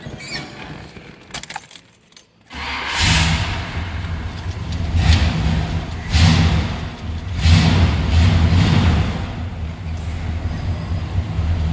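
A 1969 Pontiac GTO convertible is cranked over after a brief jangle of keys, its engine catching with a loud burst and then settling into a steady, rumbling idle that swells slightly with a few throttle blips close by.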